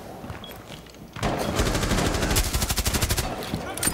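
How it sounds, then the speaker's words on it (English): Gunfire in Rainbow Six Siege from the B window: after a quiet start, a sudden burst of heavy shots gives way to a fast, evenly spaced automatic volley, loud and close. "Look out, they're shooting from the B window into A."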